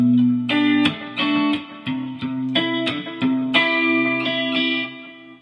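Guitar playing measure 43 of a song, with steady rhythmic strums of bright, sustained chords and a low ringing note underneath, loud and close, heard alone.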